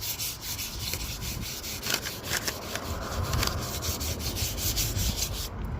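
Light hand sanding of primer over a chip in car paint, a soft, close, steady rubbing scratch with regular back-and-forth strokes and no talk.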